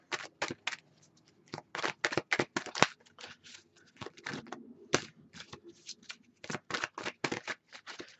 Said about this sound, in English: I'm gonna pull one angel romance card, also romance angel cards, Doreen Virtue.